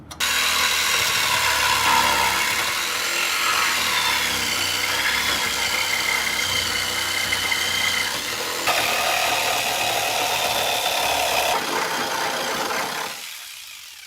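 Power tool cutting a rectangular section out of the steel floor pan of a 1967 VW Type 3 Squareback, a steady loud grinding whine running continuously for about thirteen seconds with slight shifts in pitch, then stopping abruptly.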